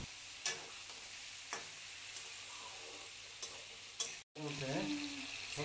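Ridge gourd and potato curry frying with spices in a pan, a steady low sizzle with a few sharp clinks of stirring and a brief drop to silence near the end.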